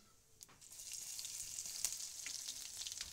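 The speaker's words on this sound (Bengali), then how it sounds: "রসুনটা ভালো করে ভেজে নেব" Crushed garlic frying in hot oil gives a steady, close, fairly quiet sizzle that builds slightly, with a few faint crackles and no voices.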